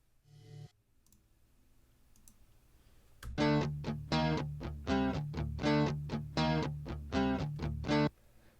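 A run of crisp, evenly repeated DI electric guitar notes, recorded direct in Logic Pro, plucked with a bright attack and played clean and undistorted, follows a short quiet lead-in.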